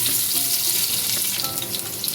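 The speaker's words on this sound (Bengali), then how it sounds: "আলুটা লাল করে ভেজে দিচ্ছি।" Diced potatoes fry in hot mustard oil with bay leaf and whole cumin, a loud, close, continuous crackling sizzle with bright spitting pops throughout.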